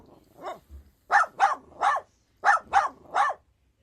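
A dog gives two quick sets of three sharp barks, loud and close, after a softer lead-in yip, with short silent gaps between the groups.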